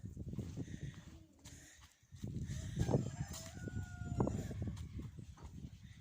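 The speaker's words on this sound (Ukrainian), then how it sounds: "Повиходили трішки кури гуляють." Chickens roam outdoors in a winter farmyard, with a rooster crowing and hens clucking amid continuous rustling, scratching movement close by; a dog is also out walking nearby.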